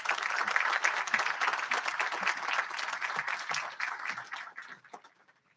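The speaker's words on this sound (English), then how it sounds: "Everybody give him a round of applause." An audience applauds a speaker at a formal Georgia event, sustained clapping from a sizable crowd that thins out and fades to silence at the end.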